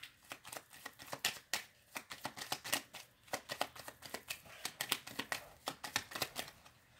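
A deck of cards being shuffled up close makes rapid, repeated riffling bursts of crisp flutter in quick rhythmic runs, with no talking.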